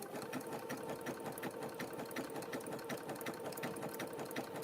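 A sewing machine stitches a rope coaster in a fast, even mechanical rhythm, close and steady throughout with no talking.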